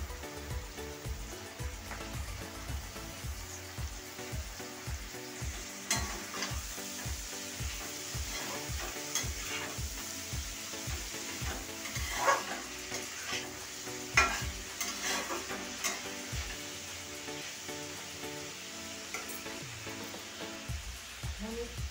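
Boiled cabbage being stir-fried with vegetables in a pan for chow mein, a regular rhythm of spatula scrapes and tosses over a constant soft sizzle, fairly quiet and close.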